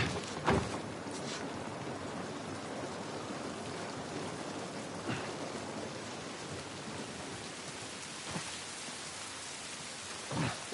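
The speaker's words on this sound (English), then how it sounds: "This rain ain't gonna do us any good." Steady rain falls in The Last of Us Part 1, a soft, continuous hiss with occasional louder drips and thuds spattering close by, faint and unbroken with no voices.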